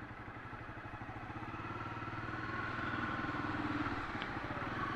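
A Honda CBR 250 motorcycle engine runs steadily on a city street, its low rhythmic throb close and continuous, rising slightly in intensity through the ride.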